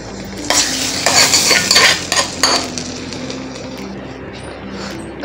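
Hot curry leaf tempering hits a pot of gongura dal with a loud burst of sizzling and crackling, accompanied by the scrape of a spoon stirring, then fading to a softer simmer.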